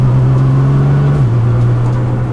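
A Nissan GT-R engine drones close and loud as the car drives and shifts down through the gears, its steady hum stepping down in pitch partway through with no talk over it.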